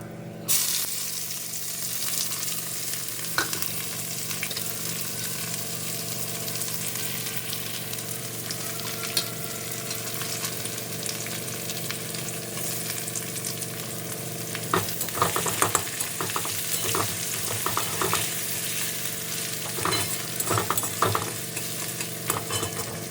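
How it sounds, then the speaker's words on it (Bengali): Onion fries in a pan of oil spiced with fenugreek and a bay leaf, giving a continuous close sizzle with occasional stirring scrapes that grow busier toward the end. "পেঁয়াজটা হালকা ভাজা হয়ে গেছে"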